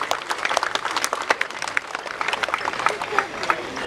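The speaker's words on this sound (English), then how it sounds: "I think they deserve a big round of applause at this moment" Crowd applause for the organizers of a festival event, a busy patter of many hands clapping at moderate distance that carries on steadily throughout, with voices mixed in.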